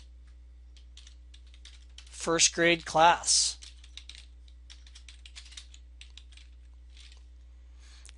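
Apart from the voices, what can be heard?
typing on computer keyboard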